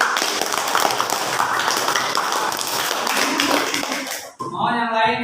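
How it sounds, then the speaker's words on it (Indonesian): A school class applauds group 1 in an Indonesian classroom. The clapping is loud and dense for about four seconds, then it drops off and a voice begins talking. "tepuk tangan untuk kelompok 1 ke depan dulu"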